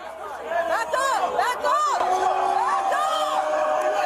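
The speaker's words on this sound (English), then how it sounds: "there's a massive crowd around" A large crowd gathered around an arrest whoops and yells in a loud, continuous swell of excited voices, with shouts rising over general babble close by.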